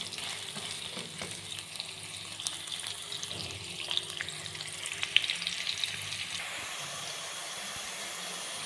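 Onions frying in a pan for a mixed vegetable sabzi, giving a soft, steady sizzle and hiss with a few light clinks and scrapes, fairly quiet and with no talking.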